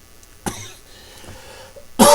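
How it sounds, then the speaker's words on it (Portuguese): A single sharp cough bursts out close to the mic, followed by quiet room tone, then a second loud cough at the end. "essa tosse é alérgica"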